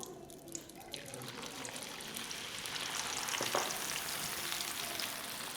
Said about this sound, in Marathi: ही अशी जाळी यात घातली की तळणं होतं सोपं